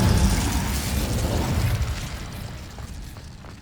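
A fire spell cast in the video game Hogwarts Legacy bursts out as a loud, crackling whoosh with a rumbling low end, then fades steadily over a few seconds; there is no talk.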